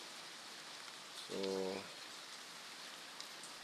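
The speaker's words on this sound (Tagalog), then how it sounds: "Kaya ito talagang matinding ulan pa rin, ayan." Heavy, nonstop rain hisses steadily as a constant broadband wash, briefly overlaid by a short, loud tonal hum near the middle and a single soft spoken word.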